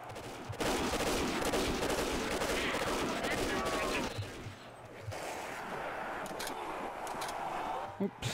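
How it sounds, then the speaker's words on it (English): Rapid bursts of gunfire from a Family Guy-themed custom zombies map in a shooter game pour out in a dense loud stretch, then ease into quieter intermittent shots, with talk mixed in beneath. "I like how these guns have like different like gunshot noises"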